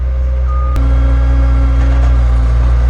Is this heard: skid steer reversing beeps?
yes